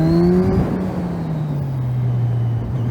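A car accelerates and brakes in zigzags to warm its tires, its engine droning steadily up close with a pitch that falls and rises as speed changes.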